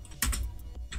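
Keys clatter on a computer keyboard as a Linux terminal command is typed, a quick burst of close, crisp clicks followed by a brief pause and another short run of keystrokes.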